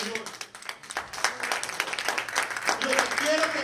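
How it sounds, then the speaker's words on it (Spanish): A church congregation claps and applauds as an offering of praise during a Spanish-language sermon, a steady wash of many hands rising and holding for several seconds, with voices calling out over it. "Dale una ofrenda de palmas al Señor."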